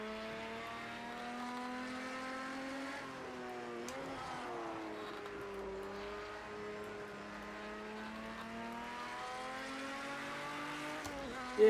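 A race car engine in Project CARS 2, Spirit of Le Mans, holds a steady loud drone with shifting pitch as it accelerates and corners, a brief tire squeal and a sharp burst at the end.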